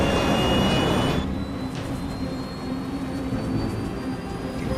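Jet engines of a cargo jumbo jet in flight roar as a loud, steady, continuous drone with no talking.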